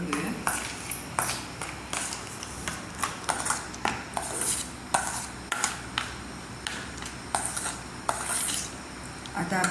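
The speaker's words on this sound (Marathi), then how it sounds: "बदाम आणि थोडी चारोळी व्यवस्थित मिक्स करून घेऊया" A spoon stirring almonds and charoli into thick shrikhand in a metal bowl, with repeated clinks and scraping against the sides at an irregular rhythm, close and fairly loud.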